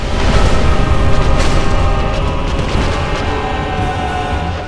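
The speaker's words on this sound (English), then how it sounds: "Just the jump and spew fire on you all over the place" Fire-breathing boss in Dark Souls leaps and sprays flames: a dense, continuous roaring rumble with booming low end and a crackling hiss of fire, loud and steady throughout, with a little game music beneath.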